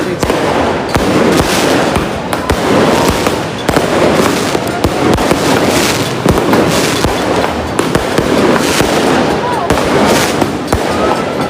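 New Year's Eve fireworks and firecrackers burst nonstop in a dense, loud barrage of sharp bangs and crackling pops close by, with faint voices in the background.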